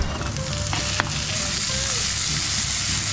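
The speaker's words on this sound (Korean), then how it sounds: "여기다가 이제 두부를 같이 볶아줍니다." Tofu stir-fried in scallion oil for a vegetarian ganjjajang makes a loud, dense, continuous sizzle, close up, with a brief utensil clink near the start and no voices.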